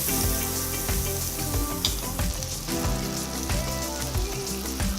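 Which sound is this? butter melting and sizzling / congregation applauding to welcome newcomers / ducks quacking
butter melting and sizzling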